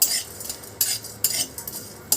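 Whole cumin seeds and black peppercorns are dry-roasted in a dry pan, with a utensil scraping and stirring them in short, irregular strokes and a faint rustle between.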